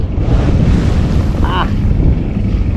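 Strong wind blowing at sea over an outdoor cooking spot, steady roaring buffeting across the microphone with a constant rush, and a faint brief tonal squeak partway through.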